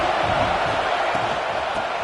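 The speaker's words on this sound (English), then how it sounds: "how nice is it to have the home crowd going absolutely bananas?" A home crowd roars steadily at a Miami vs FSU college football game in a packed stadium, a dense, loud wash of cheering that holds without a break.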